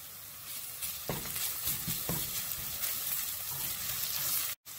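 Sliced onion and ginger garlic paste sizzle steadily in a hot pan for a soya curry, a continuous close frying hiss broken by a few soft scrapes of stirring and a brief cut near the end.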